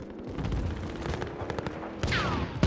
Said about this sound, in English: there's snipers